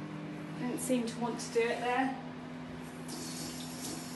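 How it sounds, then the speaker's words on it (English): Hands are rinsed under a running kitchen tap during home baking. A soft stream of water hisses steadily, becoming clearer toward the end, while a person talks briefly over it. "Just rinse my hands"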